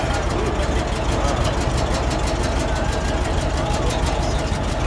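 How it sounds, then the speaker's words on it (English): A 1970 Cadillac Miller Meteor ambulance idles with a steady, low, continuous exhaust rumble heard up close and without a break, its engine running evenly for the whole clip. "Let me get a little exhaust note"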